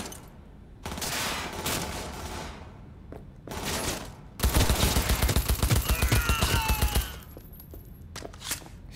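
Video game gunfire in Cyberpunk 2077 comes in several loud bursts, ending in a long dense run of rapid automatic shots, with short pauses between bursts and a quieter tail.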